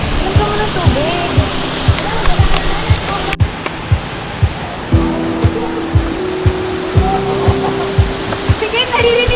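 Dao Falls waterfall in Cebu roars as a loud, steady rush of falling water close by, with footsteps and brief voices of hikers breaking through the constant wash.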